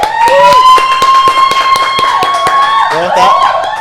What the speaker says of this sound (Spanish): Recibamos con un fuerte aplauso al doctor Luciano Fischer